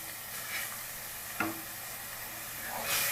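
A masala mixture simmering and frying in oil for peas pulao, giving a steady soft sizzle with a faint stir and a brief clink midway, close and alone with no talking.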